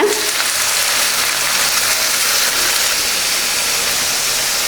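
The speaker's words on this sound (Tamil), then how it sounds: "அதை போட்டு 2 நிமிஷம் வதக்கி விடலாங்க" Chopped medium tomatoes sautéing in a pan, part of a Bread Chilli snack recipe: a loud, even hiss of frying runs through, close and continuous with no talk.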